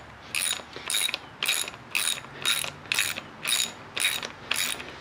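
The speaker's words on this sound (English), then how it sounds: "So just take your 10mm, undo both of these bolts" A 10mm ratchet loosening bolts on a Fox Talas suspension fork gives nine evenly spaced, close bursts of sharp ratcheting clicks in a steady rhythm, with no voices.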